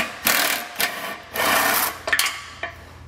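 A ratchet with a socket and extension works a 14 mm bolt out of the bumper beam of a 2015 Honda Odyssey, making loud, close bursts of rapid clicking interrupted by brief pauses.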